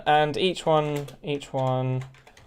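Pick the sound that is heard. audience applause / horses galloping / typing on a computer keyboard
typing on a computer keyboard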